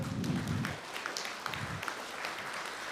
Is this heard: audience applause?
yes